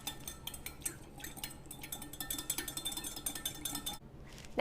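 A spoon stirs a grapefruit mixture in a bowl, making a steady run of light clinks and scraping taps against the dish, close and clear with no voices.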